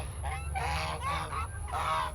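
Farm geese honking close by, a run of four or five loud, harsh nasal honks in quick succession over a low steady background hum.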